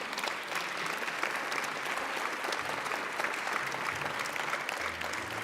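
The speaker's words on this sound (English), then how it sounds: "you can applause, please" A lunchtime arts awards audience in Toronto gives steady, even applause for two award sponsors walking onstage, a continuous wash of clapping heard at moderate distance with no talk over it.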